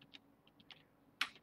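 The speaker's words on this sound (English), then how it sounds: "That time I did use a keyboard shortcut for some random reason." Computer keys tapped for a shortcut: a few light, quick clicks close by, ending in one sharper, louder keystroke.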